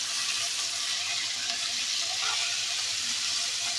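Goat meat curry sautéing in a pan gives a steady, close, dense sizzle and crackle that runs unbroken throughout, with faint stirring underneath.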